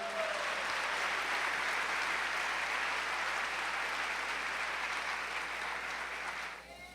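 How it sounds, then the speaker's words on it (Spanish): Steady, sustained applause from a church congregation fills the whole stretch, dense and even, tapering slightly at the very end. "¿Le puede dar un aplauso al Señor en esta hora?"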